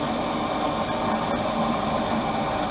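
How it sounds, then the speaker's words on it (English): An optical lens edging machine cuts a groove into an eyeglass lens with a sharp blade, giving a loud, steady grinding whir that holds unbroken and alone. "And now that sharp blade is cutting the groove into the lens."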